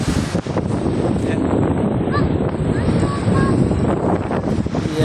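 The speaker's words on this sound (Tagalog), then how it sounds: "sobrang lakas ng hangin." Strong wind buffets the microphone in a constant low roar, with a voice speaking briefly over it.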